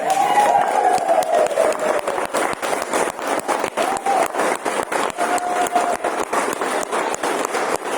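Wedding guests clap steadily in a room as a dense, sustained round of applause, with a faint voice audible underneath.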